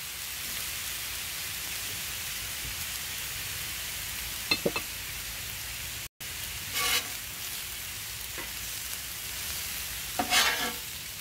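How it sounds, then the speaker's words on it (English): Half a red pepper, half a green pepper and half a yellow onion sizzle in oil on a Blackstone griddle, a steady loud hiss with a few short scraping or clinking touches from a spatula, no talking. "let me get this all sauteing up"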